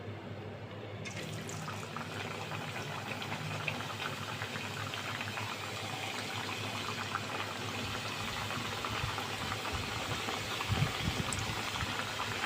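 Gujiya frying in oil in a pan over a very low flame, a steady soft bubbling and gentle sizzle that continues evenly throughout with faint crackles, no talking.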